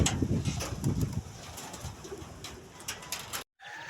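Live racing pigeons coo in low, throaty bursts, loudest at the start and then softer and steady, close by with a brief cut near the end.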